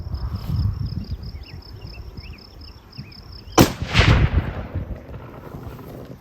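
A 338-378 Weatherby rifle fires a single Speer Grand Slam round, one sharp loud blast with a rumbling echo trailing away, heard after a stretch of steady outdoor insect chirping.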